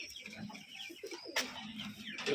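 Rajshahi giribaz pigeons coo softly at a pigeon farm in Bangladesh, a few close, low burbling calls with faint chirps around them.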